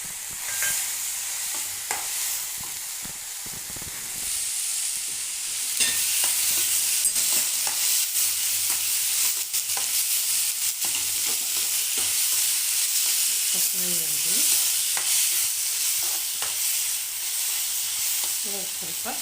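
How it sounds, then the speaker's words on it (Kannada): Raw field beans frying in oil in a pan, a steady loud sizzle throughout with intermittent scraping and clinking as a spoon stirs them, close up. "ಎಣ್ಣೆಲಿ ಫ್ರೈ ಆದ ತಕ್ಷಣ ಇವಾಗ ಹಸಿ ಅವರೆಕಾಳನ್ನ ನಾನು ಹಾಕ್ತಾಯಿದ್ದೀನಿ"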